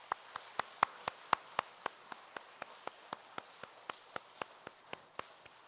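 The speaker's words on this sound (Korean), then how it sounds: "환영합니다. 박수하겠습니다." Applause during a Korean church worship service, heard as evenly spaced sharp claps in a steady, quick rhythm that continues throughout, fairly close and moderately loud.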